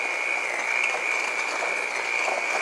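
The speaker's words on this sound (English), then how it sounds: "cream together the vanilla, the sugar, and the butter with my mixer here" Electric mixer creaming vanilla, sugar and butter together, giving a steady, close whirring hum with a constant high whine that runs unbroken, without talk.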